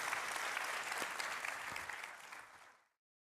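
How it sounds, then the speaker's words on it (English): Warm applause from the audience at a carbon capture, utilisation and storage forum, a dense even patter of many hands that holds steady and then fades out to silence near the end. "May I invite a round of applause for Brad?"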